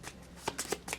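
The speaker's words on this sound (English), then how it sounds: "so I'm just going to shuffle that in real quick" Marvel Champions playing cards shuffled by hand at close range, a quick run of three or four crisp riffling bursts packed into about a second, with no talk over them.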